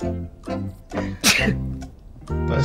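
Someone sneezes sharply once, close to the microphone during an Overwatch game voice chat, between short voiced sounds and other players' voices.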